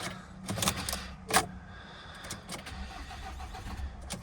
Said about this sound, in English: See if we can get this thing to start.